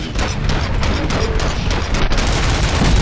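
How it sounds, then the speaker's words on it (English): Gunfire in RoboCop: Rogue City: rapid, dense bursts of loud shots crackling one after another without pause, like a sustained firefight. "Gunshots? What's going on?"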